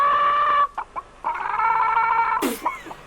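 A voice imitates a chicken clucking in a stretched, tonal cackle, an anime character's animal impression, loud and close with short breaks between phrases.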